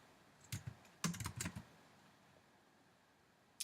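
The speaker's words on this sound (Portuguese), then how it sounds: "Ctrl F, eu digitei o Ctrl F para poder procurar." A Ctrl F shortcut is typed on a computer keyboard: a few quick, close key clicks in two short clusters, then near silence before one more click at the end.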